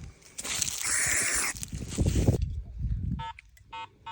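A Garrett AT Pro metal detector gives short, beeping target tones in two bursts near the end, after a stretch of scraping and rustling handling noise up close.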